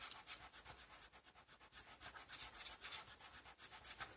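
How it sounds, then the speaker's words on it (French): A pencil eraser is rubbed quickly back and forth over a paper card, giving faint, rapid, papery strokes in an even rhythm. "je vais gommer tout ça"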